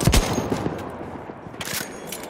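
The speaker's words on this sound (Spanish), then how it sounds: "¡Por aquí hay una ametralladora enemiga!" Enemy machine gun fire in the Battlefield 1 video game, a sharp loud burst at the start followed by a steady, dense rattle of distant gunfire and battle noise, with another brighter flurry near the end.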